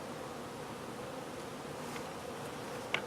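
Honey bees swarm around a hive being installed, a dense, steady buzzing hum close around, with a brief louder tap near the end; no talking.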